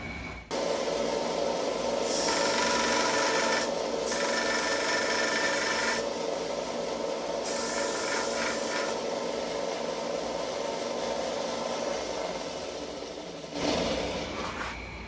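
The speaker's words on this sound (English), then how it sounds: "On the opposite side of the main blade. We're going to sand that down." Rough rasping abrasion on the back of a Remington pocket knife blade, sanding in steady sustained strokes with brief brighter surges, close and continuous before stopping near the end.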